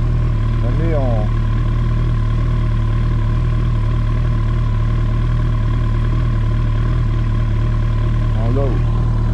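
A Kawasaki ZX-14R motorcycle's big engine idles steadily while warming up, a loud constant low rumble with someone speaking over it.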